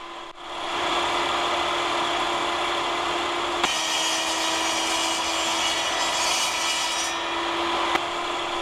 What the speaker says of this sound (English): repeatedly passing the block over the table saw blade and adjusting the guide a tiny bit after each pass